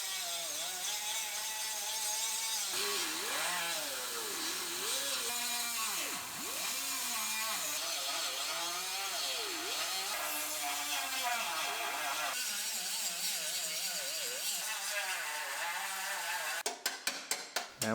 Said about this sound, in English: Cut the rest of our seam welds out.